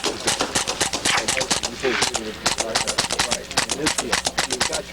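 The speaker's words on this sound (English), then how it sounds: "What we're hearing is the bolt operating." Rapid bolt cycling of a suppressed submachine gun firing bursts, a fast string of sharp mechanical clacks and muffled reports in tight rhythm, close and fairly loud, with a voice talking over parts of it.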